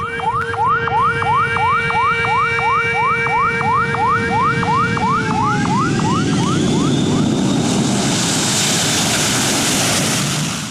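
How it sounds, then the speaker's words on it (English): At an Indonesian airport, a runway warning alarm repeats rapid rising whooping tones, loud and close, then fades into a broad roar of wind and aircraft noise. "Do you hear that alarm sound?"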